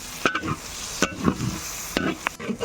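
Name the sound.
frying and stirring spice masala in a pan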